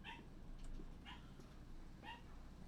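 Faint, distant barking from a young puppy in the background: three short yips spaced about a second apart over a low hum.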